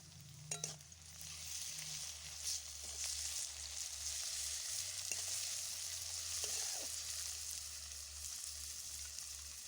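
Garlic paste and fresh bay leaves fry steadily in hot oil, a continuous broadband sizzle with a low hum beneath and a few brief stirring clinks, no talking.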